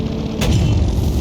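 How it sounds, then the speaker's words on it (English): A big tank cannon fires in the Sprocket video game, one sharp loud boom followed by a low rumbling decay, with nothing else heard. "It's a crazy cannon, takes a full minute to reload."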